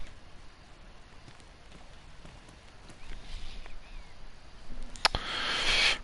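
Zombie footsteps from the DayZ video game, a soft irregular patter of steps over faint ambient noise, growing louder near the end alongside a brighter rushing hiss.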